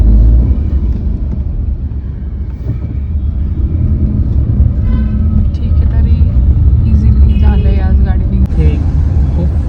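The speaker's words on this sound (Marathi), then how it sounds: "बघा खूप ट्रॅफिक आहे इथे" Steady, loud road traffic rumble near Bhadra Maruti temple, with engines passing close by, a constant low drone throughout.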